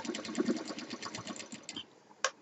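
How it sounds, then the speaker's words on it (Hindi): A sewing machine stitches lace onto a fabric shoulder bag in a quick, even run of close needle strokes that stops near the end, followed by a single sharp click. "इसको सिल देती हूँ।"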